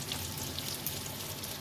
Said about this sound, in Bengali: নুন হলুদ মাখানো পটলগুলো দিয়ে লাল করে ভেজে নিতে হবে